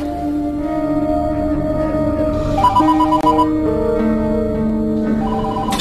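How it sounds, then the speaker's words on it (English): A telephone rings across the hall in a series of bright electronic trills, loud and close, over a sustained tonal background with no speech. "Startled by a phone call originating from just across the hall, Rosmawati feared that something bad had gon"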